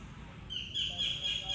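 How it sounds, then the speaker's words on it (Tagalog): A bird in a forest chirps with a thin, high call that rises out of a low outdoor rumble partway through and carries on steadily at moderate, slightly distant loudness. "O may mga huni pa ng mga ibon. Narinig niyo 'yan?"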